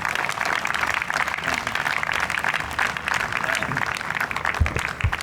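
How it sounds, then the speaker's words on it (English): At a university convocation ceremony, an audience gives chief guest Harsh Mariwala steady, dense applause from a large crowd, with a few louder thumps near the end. "Can we please have a huge round of applause for him?"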